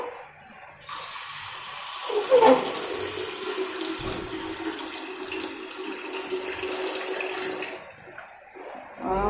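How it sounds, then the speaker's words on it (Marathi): Water pours steadily into a rice container, a continuous splashing rush with a brief clunk early on, no talking. "भाताच्या डब्यात पाणी ओतून घेते"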